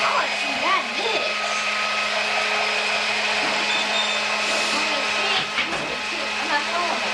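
Electric mixer whirring steadily as it mixes cinnamon roll dough with eggs for grandma's recipe, a continuous motor drone with people talking over it.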